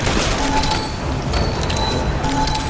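Gunfire from Resident Evil 6, Chris's campaign: a loud, sustained volley of shots and booming blasts running without a break.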